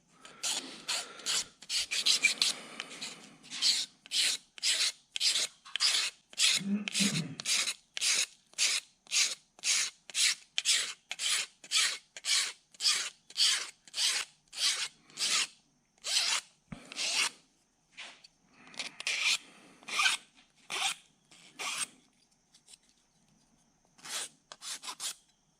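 Steady, rhythmic rasping strokes of a hand file scraping metal, repeated dozens of times close up, with brief pauses between strokes.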